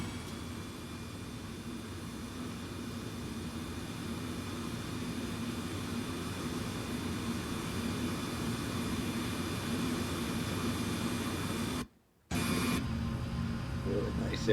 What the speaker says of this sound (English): Nice airplane.